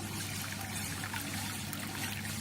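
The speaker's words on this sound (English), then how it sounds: "And that's the outlet water that comes from the condenser." Cooling water trickles steadily from the outlet of a reflux still's condenser during home alcohol distillation, a soft continuous pouring under a faint low hum.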